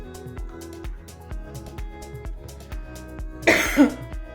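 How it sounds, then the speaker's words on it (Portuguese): A single harsh cough bursts out near the end over quiet background music with a steady rhythmic beat. "É a minha tosse que não passa nunca"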